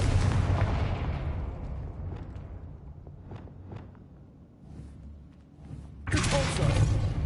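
A Confringo fire spell explodes in a Hogwarts video game: a heavy booming blast that rumbles and fades over several seconds, with faint crackles, then a second loud burst erupts near the end.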